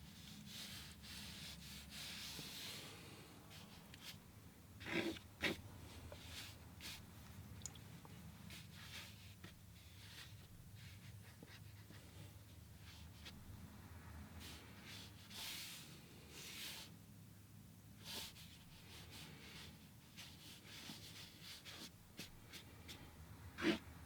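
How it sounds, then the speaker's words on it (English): A brush or tool makes quick, quiet scratches on watercolor paper to suggest hair in a black-and-white portrait, with faint intermittent rubbing strokes and a few sharper taps against near silence. "I'm going to do a couple little quick scratches there"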